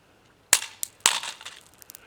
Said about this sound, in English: And now my favorite, the stick grenade.